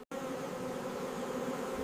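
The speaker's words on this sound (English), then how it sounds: "Bees fan the entrance to cool it in summer and cluster tightly, vibrating their muscles" Honey bees buzzing inside a beehive, a steady, dense drone from many insects that holds level throughout after a sharp start, close and loud with no talk.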